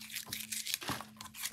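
An ABW Model 1 button lock knife blade slices through material in a cut test, making a few crisp tearing and crunching strokes, close and fairly quiet.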